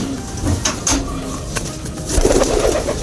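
A racing pigeon coos in low, soft bursts close by, with outdoor background noise and some louder rustling toward the end; no talking.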